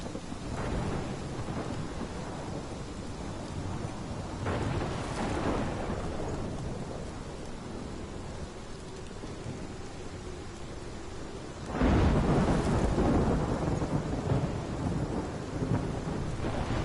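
A steady hiss of heavy rain in the Life Is Strange game, broken by two deep rolling thunderclaps, the second louder and closer.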